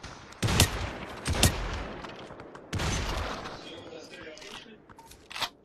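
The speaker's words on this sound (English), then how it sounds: "You got to kick with your shotgun" Shotgun blasts ring out in the VR battle game Population One, a few sharp loud bangs spaced apart with short decays, and a voice talking in between.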